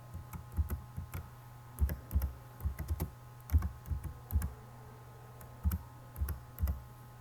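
Keystrokes clicking on a computer keyboard in uneven bursts over a steady low electrical hum, fairly quiet and close, with no talk.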